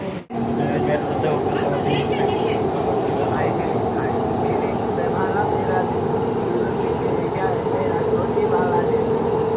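A metro train runs with a steady rumbling roar and sustained tonal hum, loud and continuous throughout, with a voice speaking over it.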